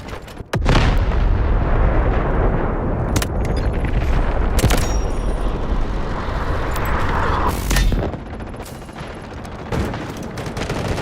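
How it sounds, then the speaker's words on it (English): An artillery barrage in the shooter game Delta Force, with loud booming explosions and crackling blasts rolling one after another, close and heavy, with several sharp impacts standing out over a dense rumble. "Requesting artillery barrage! Roger that. Artillery barrage incoming."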